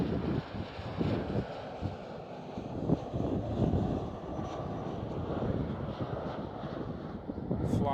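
An Embraer jet flown for KLM Cityhopper at Schiphol gives off a continuous engine rumble mixed with gusty wind buffeting on the microphone, holding fairly steady over the whole stretch.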